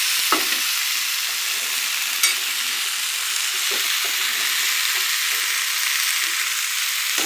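Yardlong beans are stirred as they fry in a pan, a loud continuous sizzle with occasional soft scrapes and knocks from the stirring, heard alone without talk.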